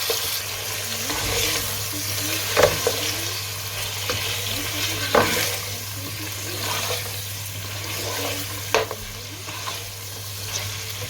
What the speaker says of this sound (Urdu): ایک پاؤ اس میں ڈال دیں گے مٹن اور اس کو اچھے سے فرائی کر لیں گے